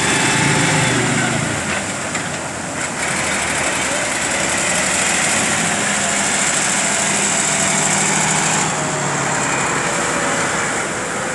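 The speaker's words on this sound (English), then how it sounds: "Oh, hear that Mercury's roar into power." The Mercury outboard engine of a ski boat roars at full power at a St Lucia ski boat launch, a loud, steady, high-pitched drone that continues with no break, and voices come through faintly under it.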